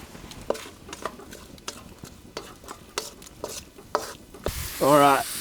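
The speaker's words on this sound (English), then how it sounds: "so that's frying up nicely" Chopped onion fries in a hot wok, a soft sizzle under repeated scrapes and clacks of a spatula against the metal, ending in a louder surge of hiss and rattling.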